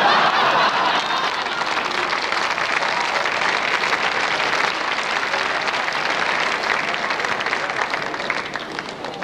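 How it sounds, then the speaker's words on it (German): Carnival audience at a Cologne Karneval session breaks into sustained applause, a dense, loud wash of clapping with scattered chuckles, lasting throughout and thinning slightly at the end. "Applaus"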